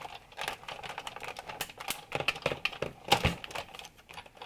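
Sizzix die-cutting machine hand-cranked to feed card through cutting pads, giving a close run of small clicking, ratcheting ticks and crinkly rustles at a quiet level, with no talking.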